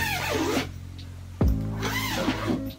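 Zipper on a fabric shoe cabinet pulled down in a series of scratchy, whirring zips, with a sharp knock in the middle, close and fairly loud, and no talk.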